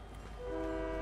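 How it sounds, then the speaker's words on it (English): A train approaching in a video game, its horn sounding a loud sustained blast that swells over the rumble of the wagons. "Ooh, the train's coming."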